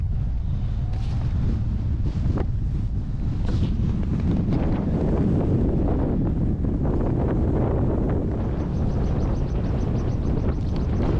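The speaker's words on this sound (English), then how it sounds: "the wind is still blowing strong" Strong wind buffets the microphone beside a lighthouse on the North Sea coast, a steady, loud roaring rush with gusty swells and no voices throughout.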